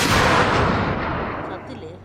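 A single heavy gunshot in a video game bursts loud at once, then its booming echo fades gradually over about two seconds.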